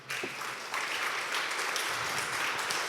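A church congregation claps during a Spanish-language sermon, a brief, fairly faint burst of many hands that swells after a soft start and holds steady.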